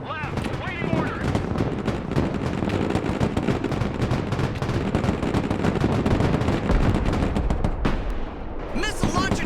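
Dense, unbroken gunfire and artillery-like blasts rage through a modern military battle in the game Broken Arrow as a missile launcher is destroyed. The barrage stays loud and steady throughout, easing only briefly near the end.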